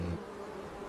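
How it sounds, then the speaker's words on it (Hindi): Honeybees buzz around a hive, a dense steady drone heard close and continuous throughout, with no voices. "मधुमक्खियों की आवाज आ रही है।"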